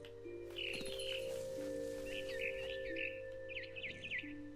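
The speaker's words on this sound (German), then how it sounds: "Da ist der Vogel. Guck, da ist der Vogel." Small bird chirps in the video game What Remains of Edith Finch, several short quick trills in a few bursts, faint and high over sustained game music tones.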